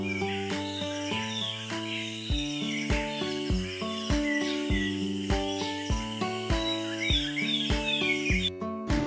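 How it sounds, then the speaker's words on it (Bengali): Birds chirp and tweet steadily at dawn over sustained tonal notes, a continuous, moderately loud chorus that does not pause. "ভোরে ঘুম থেকে উঠলে কিন্তু পাখির এই কিচিরমিচির আওয়াজ শোনা যায়।"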